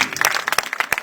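An audience at a comedy prize-giving event gives a brief round of scattered claps, close and irregular.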